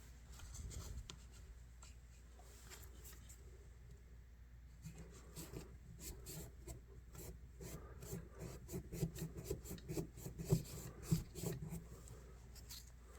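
Cloth wiping out the blade channels of a vintage Hammer Brand Barlow pocketknife, soft irregular rubbing and scratching strokes close by, quiet at first and building into quicker, denser rubs.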